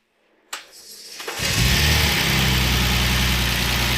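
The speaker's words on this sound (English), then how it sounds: "The ignition is misfiring a bit." A BMW engine under rebuild cranks with a sharp starter burst, then catches and settles into a loud, rough idle that stutters from a misfiring ignition.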